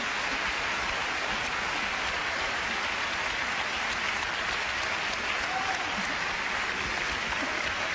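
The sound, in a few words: audience applause for Giovanni Allevi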